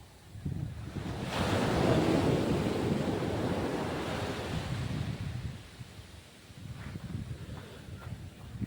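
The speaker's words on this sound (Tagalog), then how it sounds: "Malalaki ng alon" Big ocean waves break on a shore by the sea in Ilocos, a heavy rushing crash that swells early and then slowly recedes, close and loud with wind in the background and no speech.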